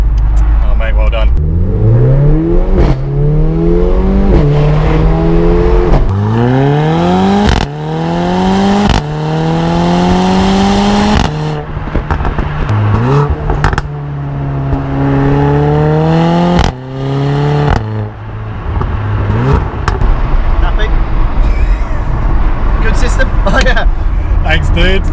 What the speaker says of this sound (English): Hear the wastegate pressure as well. Yeah, you got that little turbo flutter in there as well.